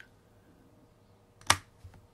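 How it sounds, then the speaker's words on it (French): A single sharp key press on a computer keyboard while the CTRL key is held, one crisp click near the end of an otherwise quiet moment, followed by a faint softer tap. "je vais cette fois maintenir donc une touche contrôle CTRL au clavier enfoncé"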